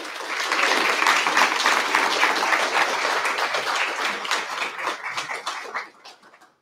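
Sustained applause from an audience for the panelists and moderator at the close of an early-learning panel, a dense steady roar of many hands that fades away toward the end.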